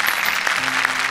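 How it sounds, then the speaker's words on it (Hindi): An audience claps loudly to welcome a guest on a Hindi comedy stage show, a brief, dense burst of applause with no talk over it. "जोरदार ताली से स्वागत करते हैं"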